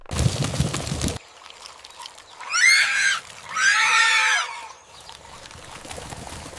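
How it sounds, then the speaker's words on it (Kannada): Porcupines fleeing across farmland let out two loud, harsh grunting squeals in quick succession, following a burst of rough rustling noise at the start. "ನೋಡಿ ನೋಡಿ ಯಾವ ರೀತಿ ಮುಳ್ಳು ಹಂದಿಗಳು ಓಡ್ತಾ ಇವೆ"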